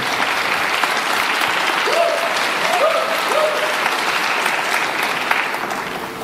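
Audience applause at the 2013 Hong Kong Film Awards ceremony, a loud, dense and continuous clapping from a large crowd that holds steady throughout, with a few brief voices rising over it.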